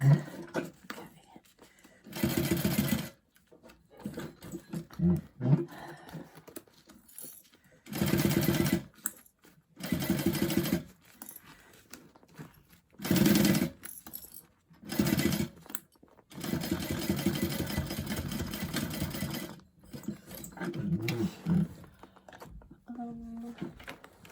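A sewing machine stitches a bag pocket in several short bursts of whirring, separated by pauses with quiet handling noises and soft talk.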